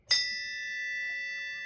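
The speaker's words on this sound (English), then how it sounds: "So I love my brass bell. I'm right here. It's perfect. I'll ring it." A brass bell in an outdoor kitchen is struck once, giving a loud, bright ring that hangs on as a long sustained tone, with a faint voice murmuring near the end.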